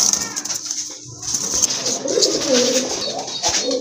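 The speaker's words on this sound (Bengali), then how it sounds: "আরেক জোড়া রেসার কবুতর" Racer pigeons coo in soft, rolling phrases that swell toward the end, close by over a steady background hiss, with no talking.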